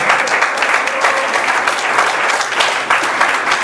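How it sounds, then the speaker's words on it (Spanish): Sustained applause from a church congregation, loud and even, with dense clapping continuing steadily throughout and no talk over it. "Fuerte el aplauso para el Señor."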